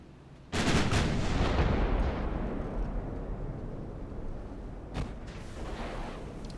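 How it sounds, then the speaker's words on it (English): Naval gunfire and launch blasts from warships in the naval combat game Ultimate Admiral: Dreadnoughts, a heavy boom followed by a long rumbling roar and a second sharper report near the end, with no voices. "So I'm starting to launch torpedoes from 3 different angles."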